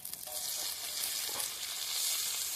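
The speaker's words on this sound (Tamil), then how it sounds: "வெங்காயத்தை போட்டுக்கலாம்" Onions fry in oil for a Tamil-style duck curry, producing a faint, continuous sizzle with soft crackles throughout.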